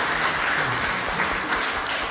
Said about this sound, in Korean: 함께 해주신 여기 네 분께 크게 박수 한번 부탁드리겠습니다.